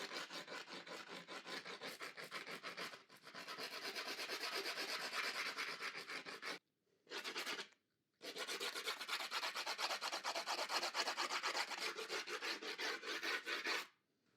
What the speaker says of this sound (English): I'm going to use a screwdriver because it's easier to maneuver with this.